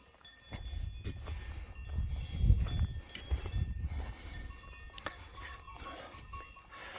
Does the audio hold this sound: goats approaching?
yes